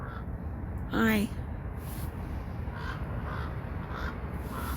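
A crow gives a single loud, harsh caw close by, followed by softer repeated calls in the distance, with a person speaking briefly.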